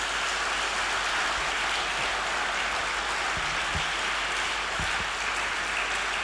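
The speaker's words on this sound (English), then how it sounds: "Clap for God for giving us Jesus." A church congregation clapping during a Lent Sunday homily, a steady dense patter of many hands at moderate level, with a few low thumps scattered through.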